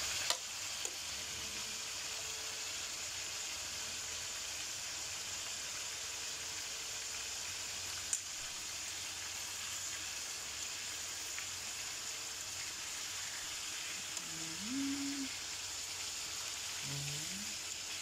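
Chicken browning in a frying pan gives off a steady, soft sizzle of hot oil that runs unbroken throughout, with a few faint clicks and brief tonal sounds near the end.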